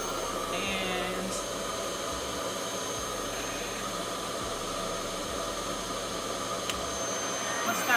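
A RevAir reverse hair dryer runs on setting 2, giving a steady, constant vacuum-like whoosh and hum that holds at even loudness throughout, with faint background sounds and no clear talk.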